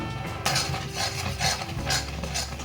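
Grated palm pulp being mixed with semolina in a bowl, giving soft scraping and stirring sounds in a steady, close rhythm with no talking.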